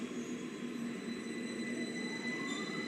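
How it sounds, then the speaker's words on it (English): A London Underground 2009 stock train on the Victoria line pulls away from Green Park station, a steady rumble with a rising motor whine held throughout, no voices. "Here we are, departing. 2009 stop departing Green Park."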